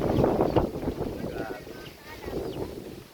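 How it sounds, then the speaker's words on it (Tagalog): Strong gusting wind at night at a relocation site buffets the microphone with a steady roar, while a voice talks faintly underneath. "Ang lakas ng hangin"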